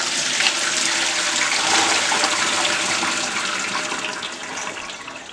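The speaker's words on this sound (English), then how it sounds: "So the next step for you to do is drain the water." Water pours and rushes steadily as it is drained off cooked chickpeas and potatoes for a Kenyan chana bateta street-food dish, a broad, continuous splashing flow that holds loud for several seconds before easing slightly.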